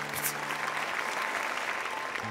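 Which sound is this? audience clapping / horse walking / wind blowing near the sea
audience clapping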